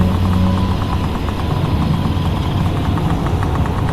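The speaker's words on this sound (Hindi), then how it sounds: "तभी वहां से एक पुराना ट्रक गुजरता है" An old truck's engine rumbles steadily and loudly throughout, a low, continuous drone with a faint rhythmic knock and no voices.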